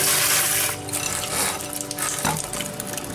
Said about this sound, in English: Make sure we clean off our pickles, all the dirt. Scrub them by hand too.